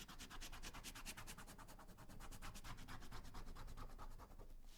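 Rapid, steady rasping strokes as leather is roughened with a leather rougher for gluing a cartridge bag strap, close and continuous with an even scratching rhythm.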